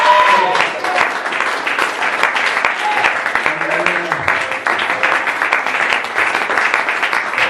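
A church congregation applauds loudly and steadily for the Lord, a dense wash of clapping that lasts throughout without a break.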